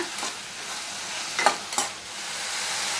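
Onion and tomato sauté with salt in a pan for a Tamil potato gravy, giving a soft continuous sizzle with a couple of brief stirring scrapes, close up and without talk.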